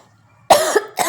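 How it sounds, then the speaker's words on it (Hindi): A woman gives two close, sharp coughs in quick succession after a moment of near silence, loud and alone. "मुझे बीच में खांसी सी आ गई थी थोड़ी"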